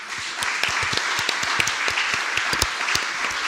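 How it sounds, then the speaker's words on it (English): Applause from a seated audience at an evening talk on homelands and belonging, steady and full with sharper individual claps standing out, sustained throughout without speech. "So I would like one more applause just for all of you."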